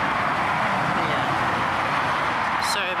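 Busy street traffic roars in a steady, dense wash of road and engine noise throughout, with a faint high squeal near the end.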